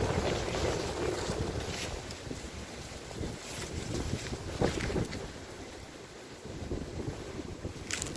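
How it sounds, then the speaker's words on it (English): Strong wind roars steadily across an open cemetery, buffeting the microphone with loud low rumbling gusts that swell and fade throughout, with no voices over it. "Extremely windy."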